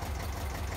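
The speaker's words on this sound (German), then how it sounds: "Motor läuft, Getriebe auch" A 1966 Fuchs 301 cable excavator, restored and running, idles with a steady, close, low diesel chug and a rapid rhythmic knock, unbroken and without talk.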